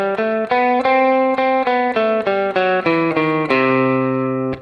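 Guitar runs through the Lydian sharp 2 scale, a steady sequence of distinct picked notes with clear ringing harmonics, each note sounding alone, the last held longer and ringing out.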